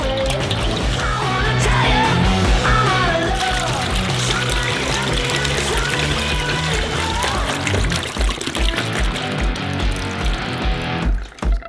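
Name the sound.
liquid eggs poured from packs into a bowl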